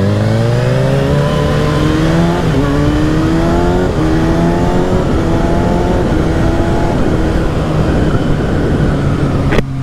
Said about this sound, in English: I'm going to ride this Ninja first because I want to see what it handles like.